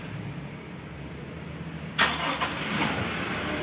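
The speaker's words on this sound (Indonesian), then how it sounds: "Ini kita coba starter." A 2021 Toyota Fortuner cranks and fires up on a newly programmed smart key, a sharp start burst around the two-second mark settling into a steady idle, close by with no talking.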